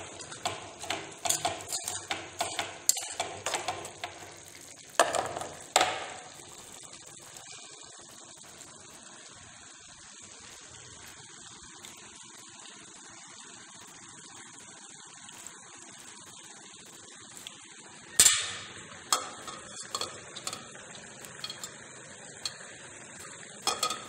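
Mixed green vegetables stirred in a pan with a utensil, giving clattering scrapes and light sizzling in bursts near the start, a quieter stretch, then more stirring knocks toward the end, close by with no talk.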